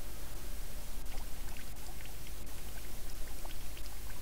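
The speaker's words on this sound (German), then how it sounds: "Irgendwo läuft Wasser." Running water trickles and splashes somewhere in a house in the horror video game The Midnight Man, a soft, steady flow with scattered drips, fairly quiet, with no voices over it.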